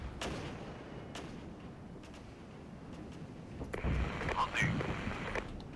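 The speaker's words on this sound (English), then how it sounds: "Our mortars are targeting the enemy anti-air system." Mortar and artillery fire in the video game Regiments: scattered distant booms and thuds over a low rumbling battlefield, growing denser and louder toward the end.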